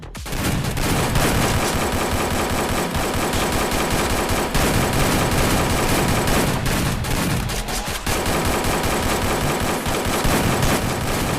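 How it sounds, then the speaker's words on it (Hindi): Sustained automatic machine-gun fire from an army-training video game, a dense, loud, continuous rattle of rapid shots with brief gaps and no voices. "चलो शुरू करो फायरिंग।"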